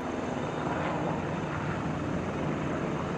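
Steady rotor and engine drone of a military helicopter, a continuous, fairly distant hum with no voices.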